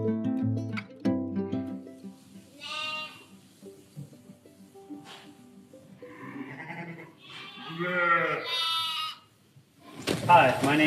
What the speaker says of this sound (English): We're here in our sheep barn today.